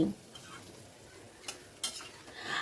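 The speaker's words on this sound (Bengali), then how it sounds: "আবারও সব কিছু ভালো করে মিশিয়ে নিচ্ছি" Ash gourd curry with garam masala and ghee being mixed in a pan, a faint, steady sizzle with a few brief scraping strokes of the spoon, close by but quiet.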